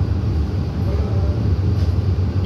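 An AC EMU local train runs at speed past Sodpur, giving a steady, loud low rumble and rolling wheel noise throughout, with no voices.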